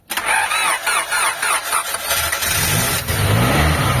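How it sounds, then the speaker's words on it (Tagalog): A Honda Civic with a faulty distributor, grounding just repaired, cranks with a rapid stuttering starter whir, then catches and settles into a loud, steady running idle. "Sige, start mo"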